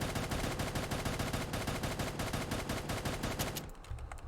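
Rapid, evenly spaced semi-automatic gunshots from a Modern Warfare mod game weapon fire in a steady loud stream for about three and a half seconds, then cut off abruptly.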